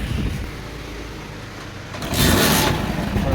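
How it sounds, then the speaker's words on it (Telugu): A motorbike engine without a battery fires up about two seconds in, its broadband roar swelling loud and close after a quieter stretch of background noise. "వెహికల్ స్టార్ట్ చేయరా."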